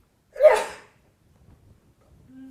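A single sharp sneeze bursts out loudly, followed by near silence and faint rustling.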